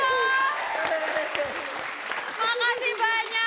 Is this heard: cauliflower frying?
no